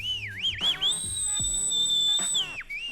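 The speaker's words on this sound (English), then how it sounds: "Let me see if I can whistle out the rating." A person whistles a sliding, wavering tune, dipping and rising before holding two bright sustained notes, close and clear with no speech.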